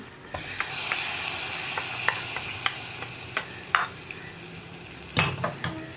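A hot chilli tempering is poured into capsicum buttermilk curry: a burst of sizzling fades while a metal spoon clinks and scrapes against the pot in several sharp knocks, close and fairly loud, with no speech.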